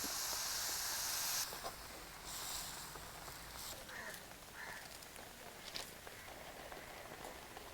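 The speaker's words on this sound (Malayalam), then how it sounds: "ഇതിലേക്ക് ആവശ്യത്തിന് വെള്ളം ഒഴിച്ച് മൂടി വെച്ച് വേവിക്കാം" Bitter gourd curry simmering in water under a lid, a soft steady hiss that is louder for the first second and a half and then settles to a faint bubble, with a voice heard lightly.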